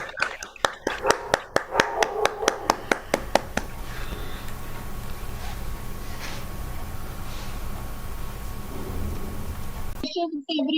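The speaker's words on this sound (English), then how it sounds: "I request all of you to unmute yourself and just clap for this wonderful day." Participants unmuted in an online meeting give a rapid, steady run of sharp close claps over the first few seconds, then fade into a low murmur and hiss of open microphones.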